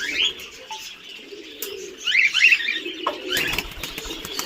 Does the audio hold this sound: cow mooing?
no